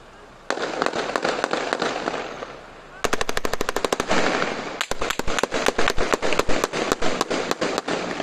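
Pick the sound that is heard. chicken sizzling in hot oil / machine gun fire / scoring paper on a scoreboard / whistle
machine gun fire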